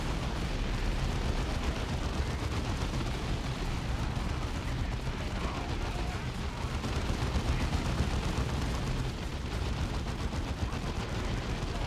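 Dense, continuous battle din from the Dawn of War 2 video game, with steady machine gun fire mixed into heavy gunfire and explosions, loud and unbroken throughout.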